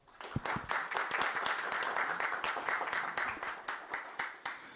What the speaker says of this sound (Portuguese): por favor, uma salva de palmas para ele